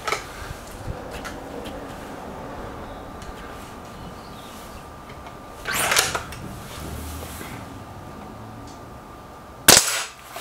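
Two sharp air rifle shots from a Remington War Hawk and an SMK XS36 in a head-to-head shooting test, one near the middle and a louder, crisper crack near the end, over faint outdoor background hiss.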